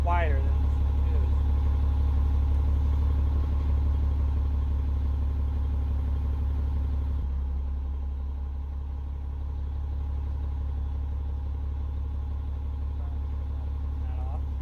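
A bus engine in the Rigs of Rods driving game idles with a steady low mechanical drone and rattle throughout, quieting slightly midway, while a voice talks over it.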